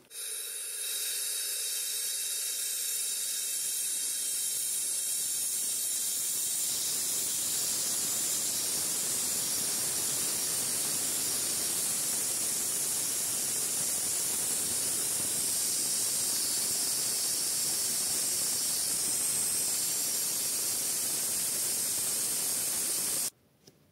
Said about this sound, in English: we're using shop air to do this, since it has been compressed before and now it's been released to atmospheric pressure